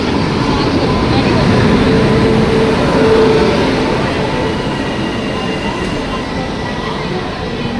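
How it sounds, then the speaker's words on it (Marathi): A Vande Bharat train at a busy station gives a loud, steady rumble with a faint squeal of wheels, while crowd voices murmur around it. "वंदे भारत ट्रेन आलेली आहे, बघू शकता"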